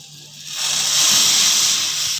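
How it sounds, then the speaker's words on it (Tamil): Masala tea boils in a pot with a loud, steady steamy hiss that swells after a quiet start and holds close for about two seconds. "2 நிமிடத்திற்கு கொதிக்க வைக்க போகிறோம்."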